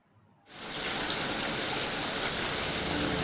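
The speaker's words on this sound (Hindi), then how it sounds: "ये अब आप देख सकते हैं बारिश की साउंड भी आ रही है" A rain sound effect added in a video editor begins suddenly after a short silence, then holds as a steady, dense hiss of falling rain with no voices over it.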